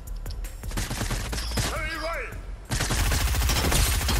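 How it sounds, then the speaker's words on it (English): Rapid gunfire from Fortnite crackles in a dense, continuous fusillade, loud and close, with a brief sweeping electronic sound in the middle and voices under it. "This guy's already shooting"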